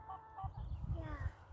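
A chicken on a chicken ranch clucks in a few soft, short calls close by, over a low rumbling background with scattered noise.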